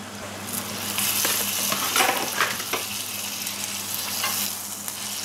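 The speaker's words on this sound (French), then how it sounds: "il faut bien faire cuire la pâte sur les côtés aussi" Crêpe batter for Thai roti frying in butter in a pan, a close, steady sizzle and crackle with brief scraping stirs, free of talk.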